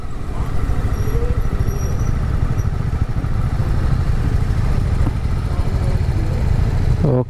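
A motorcycle engine drones steadily and loudly throughout, a close continuous rumble of a bike being ridden on a narrow mountain road toward Khecheopalri lake near Pelling, with no talking.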